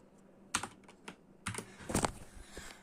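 Typing on a computer keyboard: a few separate key clicks and short bursts of keystrokes, close and fairly quiet in a calm room.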